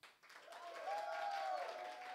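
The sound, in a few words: audience applause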